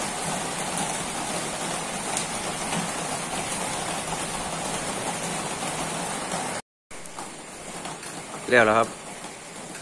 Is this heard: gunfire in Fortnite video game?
no